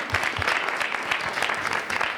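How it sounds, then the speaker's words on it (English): A meeting audience gives a round of applause for attending young people, a moderately loud, even wash of many hands clapping with no speech over it. "let's give them a round of applause."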